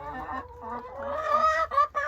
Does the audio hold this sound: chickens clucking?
yes